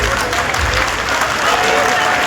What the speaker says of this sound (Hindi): अगर ताली बजाओ तो ढंग से बजाओ, नहीं तो बजाए मत करेगा